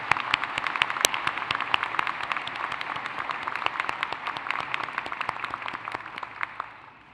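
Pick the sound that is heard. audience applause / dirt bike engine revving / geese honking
audience applause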